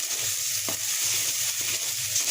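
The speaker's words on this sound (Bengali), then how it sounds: "এটাকে ভালোভাবে কষিয়ে নেব আর মরিচের গুঁড়াও স্বাদ মতো আমি হাফ চা চামচ দিয়ে দিলাম" Chicken frying with spices and half a teaspoon of chili powder in oil, a soft continuous sizzle with occasional stirring scrapes, close and fairly quiet, no voices.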